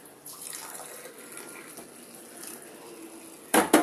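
Hot water is poured into a tumbler, a soft steady trickle of liquid heard close and quietly for several seconds before a couple of louder clinks at the end.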